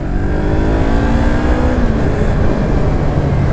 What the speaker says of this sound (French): Tu l'as entendu, bon, ça ronfle un peu quand même, hein, c'est un bicylindre.